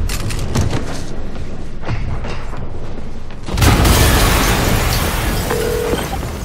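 A heavy, booming explosion in the video game Marvel's Spider-Man hits midway, a loud broadband blast that rumbles on after scattered thumps and impacts.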